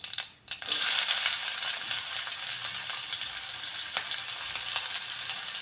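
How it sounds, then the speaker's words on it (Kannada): Sliced onion, green chillies and curry leaves sizzle and fry in a pan for aloo stuffed capsicum, a loud continuous crackle with occasional stirring scrapes, no talking. "ಈರುಳ್ಳಿ ಹಸಿಮೆಣಸಿಕಾಯಿ ಕರಿಬೇವು ಹಾಕಿದ್ದೀನಿ ಹಾಕಿಬಿಟ್ಟು ಸ್ವಲ್ಪ ಇದನ್ನು ಫ್ರೈ ಮಾಡೋಣ"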